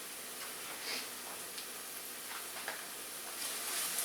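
Shallots sizzle and spatter in a hot frying pan, a steady close hiss broken by scattered sharp pops and crackles that grow a little busier toward the end, with no talking.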